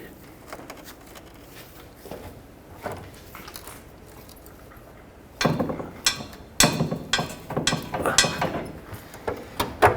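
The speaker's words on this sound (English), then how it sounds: "So with a breaker bar, I'm going to try and break it free." A breaker bar working on a stuck leaf spring shackle bolt on a 2003-2021 Chevrolet Express, quiet creaks and clicks at first, then a run of louder metallic clanks and strains close by.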